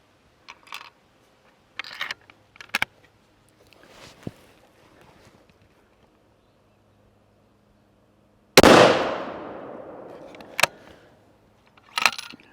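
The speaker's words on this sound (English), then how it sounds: "we're going to shoot this bullet into that gel and see what kind of terminal performance it delivers" A 6.5 Creedmoor rifle fires a Barnes TTSX bullet into ballistic gel: one loud, sharp report with a decaying tail outdoors, preceded by scattered small clicks and handling noises and followed by a few faint knocks.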